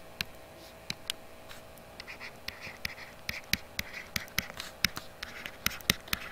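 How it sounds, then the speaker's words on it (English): Chalk or marker writing on a classroom board, heard as a steady series of sharp taps and short scratchy strokes in an irregular rhythm, close and fairly quiet with no talking. "let me write it over here."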